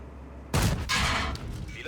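A tank gun fires in World of Tanks during a heavy-tank battle on the Redshire map, one sudden booming blast followed by a short rumbling tail.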